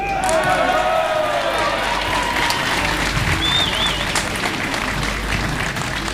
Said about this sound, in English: he deserves a huge round of applause here today